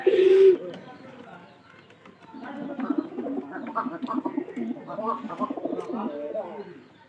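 Domestic pigeons, including a white pair, cooing close by in a loft: a brief loud call at the start, then repeated soft, rolling coos throughout, with a voice speaking alongside.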